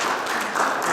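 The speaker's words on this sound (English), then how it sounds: "how about a round of applause for both?" A brief burst of applause from a community meeting audience, steady dense clapping filling the moment without any talk over it.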